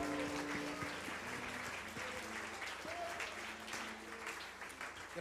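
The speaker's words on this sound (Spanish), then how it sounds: "Dele fuerte el aplauso a Dios, hermano." Church congregation applauding together in a sustained burst of clapping, with a few voices mixed into the crowd noise and a gradual taper toward the end.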